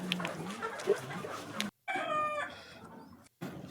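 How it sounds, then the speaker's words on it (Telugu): Country chickens (naatu kodi) at a poultry farm cluck and crow close by. A rooster's clear crow rises over busy background clucking. "సో ఇవే నాటుకోళ్ళు అనమాట, ఫామ్ ఉంది."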